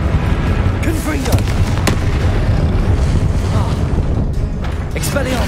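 The Confringo fire spell bursting in Hogwarts Legacy, heavy booming impacts with crackling blasts over a loud, busy battle bed, a few sharp hits standing out.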